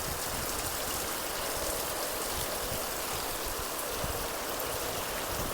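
Unseasonal rain pours down steadily on a village farm, a dense, continuous hiss of drops close by that holds at an even loudness throughout, with no talking.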